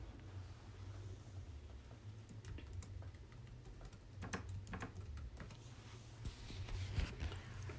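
Faint keystrokes on a computer keyboard form a few short clusters of soft clicks over a low, steady room hum, with no voice.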